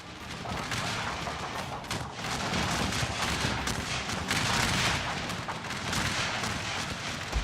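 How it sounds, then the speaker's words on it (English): A video game battle at Ball's Bluff rumbles with dense, continuous volleys of musket fire and booming artillery, a rolling, crackling barrage with scattered sharper reports that never lets up. "We'll finish them off with some artillery shots."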